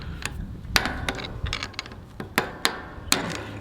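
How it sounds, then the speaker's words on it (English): A bolt is unscrewed on a fence wire connector, giving a run of close, sharp metallic clicks and ratcheting taps at irregular intervals over faint background noise. "all you gotta do is unscrew it"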